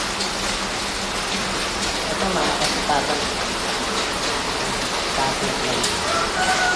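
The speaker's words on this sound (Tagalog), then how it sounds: "Baka mabasa ng ulan." Steady heavy rain falls outdoors in Olongapo City during flooding, a dense, loud, even hiss of drops hitting surfaces that lasts throughout while someone speaks briefly over it.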